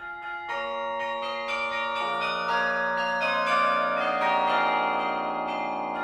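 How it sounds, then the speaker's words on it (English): Carillon bells play a slow melody placed in the larger tenor bells, each struck note ringing on and overlapping the next in a rich, sustained wash of bell tones. "the bigger bells are just going to carry a melody better than the higher bells"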